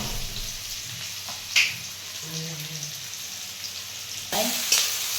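Onion, green chillies and peanuts frying in a pan, a moderate sizzle with a few sharp clatters as ingredients drop in and are stirred, close by, with faint background voices.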